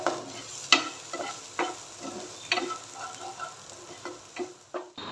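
Quiet scraping and tapping of a spoon stirring black chickpeas with spices in a pan over low heat, in irregular strokes over a soft sizzle.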